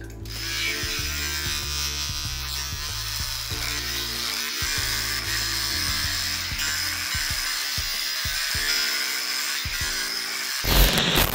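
An old battery-powered hair clipper, about ten years old with a tired battery, buzzes steadily while shaving a head, straining and rattling continuously at close range with no talk.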